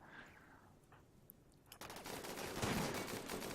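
Rapid overlapping gunfire as colonists shoot in the colony game RimWorld Alpha 15, a dense crackling fusillade that starts abruptly midway and continues steadily.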